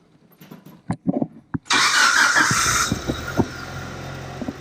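A modified Mitsubishi Lancer Evolution VIII engine cranks with a few clicks on its first startup, then fires up loud and rough, settling into a raw, throaty idle with occasional pops.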